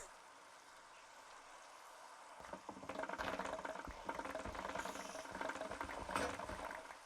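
Minecraft rain begins after a quiet start, a steady pattering hiss that builds and holds, fairly soft, with faint clicks and a few voices underneath.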